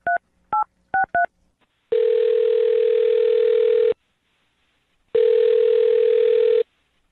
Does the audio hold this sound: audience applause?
no